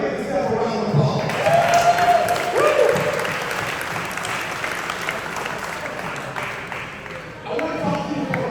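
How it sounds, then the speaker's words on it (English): A seated audience gives sustained applause, a broad wash of many hands clapping that swells early and then tapers slightly, with faint crowd murmur underneath. "We'll give yourself a round of applause."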